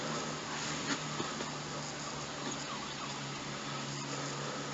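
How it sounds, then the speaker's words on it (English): A distant ambulance siren wails faintly and steadily beneath a constant wash of street and traffic noise, with no nearby voices. "No, that's an ambulance."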